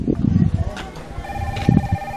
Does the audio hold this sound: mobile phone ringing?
yes